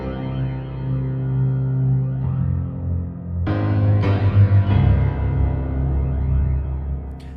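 BBO Fornax pitched-percussion piano preset with extras, a ringing, sustained layered tone with echo and effects, shifting chords that swell louder midway through with bright struck attacks.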